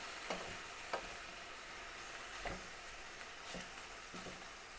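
Aubergine and tomato fry in a pan for a Balkan satarash, a soft continuous sizzle broken by several brief scraping stirs spaced about a second apart, quiet and close with no voices.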